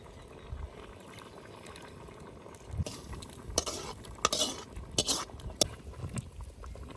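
Masala being stirred into boiling kanji rice porridge, quiet bubbling at first, then a series of louder spoon scrapes and clinks against the pot in irregular bursts, close by.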